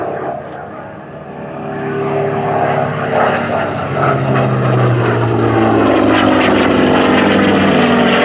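A propeller warbird flies a fast display pass at the 2024 Sywell Airshow, its loud engine droning steadily and swelling gradually louder with a rough, throaty growl.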